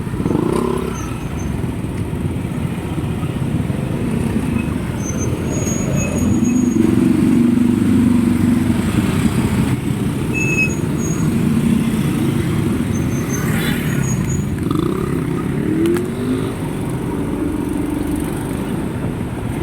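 Steady road traffic in the Philippines, with cars and motorcycles passing close by and engines swelling and fading in a continuous loud wash, no talk over it.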